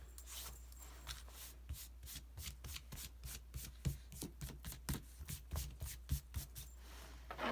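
Pencil marks being erased from an art journal page with a rubber eraser: a run of quick, repeated rubbing strokes in bursts, close and fairly soft, with no talking over them.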